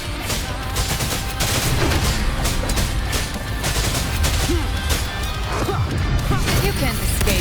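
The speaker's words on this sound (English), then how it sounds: "Another mortar thrown at us." A mortar blast in the Wuthering Waves video game, set in a loud, continuous barrage of crashing impacts and rumbling explosions, with music and talk mixed in throughout.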